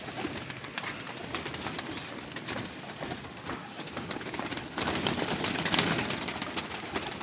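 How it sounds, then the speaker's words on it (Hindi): Pigeons cooing at a breeder's loft, soft repeated low coos from several birds close by, with faint wing flutters and background rustle, growing a little louder near the end. "ये देखें एक से एक बढ़ के कबूतर नज़र आएगा।"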